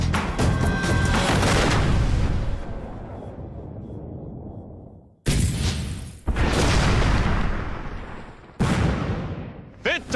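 M1 Garand rifle firing at pop-up targets on a shooting course, with three sharp, loud reports that each ring out with a long decay in between, and no voices.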